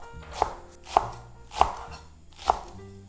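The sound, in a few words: knife thinly slicing green onion diagonally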